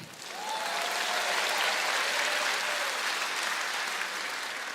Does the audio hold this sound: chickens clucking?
no